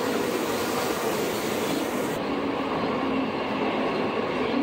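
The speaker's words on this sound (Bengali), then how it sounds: "আর এক মিনিট বসে থাকার পর ফাইনালি ট্রেনটা চলে আসে" A Mumbai local train pulling into a station platform, a loud continuous rumble and rushing roar that holds steady throughout with no talk.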